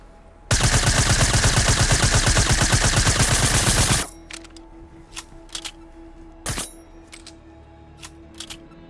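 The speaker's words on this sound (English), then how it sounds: "So the OG silenced SMG has incorrect tracers, and it also has the incorrect reload sound effects" Suppressed submachine gun from Fortnite fires a loud, rapid burst for several seconds, then falls quiet for a reload of scattered clicks, clacks and brief mechanical snaps.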